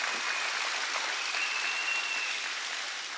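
A church congregation applauds through a Sunday morning service, the steady clapping dense and continuous from start to finish with no speech over it.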